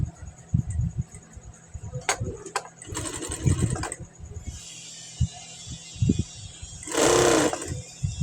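Household sewing machine stitching along the marked middle of a sleeve's armhole, with short whirring bursts of stitching between pauses, handling clatter and faint background sounds.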